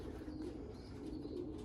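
Racing pigeon, a small pied bird, cooing softly and continuously in a low steady murmur, fairly faint and close by, with no other sounds standing out.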